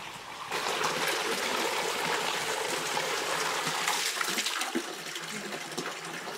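A small mountain stream near terraced paddy fields rushes and splashes steadily, a dense, continuous close water noise with no voices.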